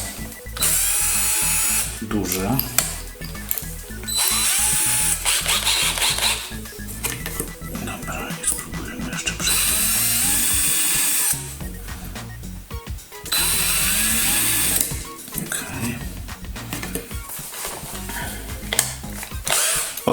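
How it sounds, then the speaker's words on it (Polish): Cordless drill boring holes in an Atari computer case, several bursts of loud whining drilling separated by short pauses, with a person talking in between. "Teraz weźmiemy sobie krętareczkę, odpowiednie wiertło."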